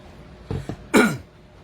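A man on a Tagalog radio broadcast gives a short cough and clears his throat, several quick bursts close to the microphone against quiet background.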